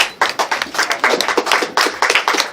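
A church congregation claps in a loose, uneven burst of many hands, close and fairly loud, with the rhythm thinning in places and no voices over it.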